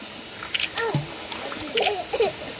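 Water splashes in a swimming pool as a small child plays there, with a few short splashy bursts mixed in among high-pitched child speech and babbling.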